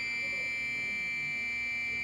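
A metal detector held over an old aluminium five-paise coin gives a continuous, unbroken high-pitched beep at a steady level for the whole stretch. A faint voice may sit beneath it.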